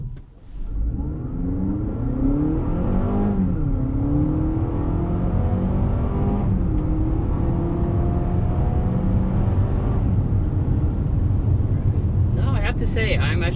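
A 2023 Honda CR-V Hybrid accelerates down a gentle, straight slope, its engine and drivetrain rising in a steady whir and drone that swells continuously for about thirteen seconds, heard from inside the cabin.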